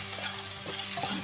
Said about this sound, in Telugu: ఇలాగా నేతిలో వేయించుకుంటే బాగుంటుంది